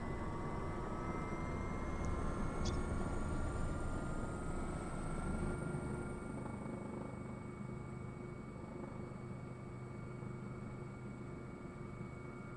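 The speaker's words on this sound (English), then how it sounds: "It looks exactly like a Huey, but it does not fly like it." Steady helicopter rotor drone with a constant engine whine, loud and continuous throughout, with no talking, from a Huey-like helicopter in the video game Squad.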